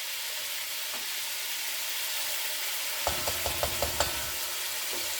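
Sofrito sizzling in a pot with chicken, steady loud frying hiss throughout, joined midway by a series of sharp spoon knocks and scrapes against the pot as the mixture is stirred and cooked down.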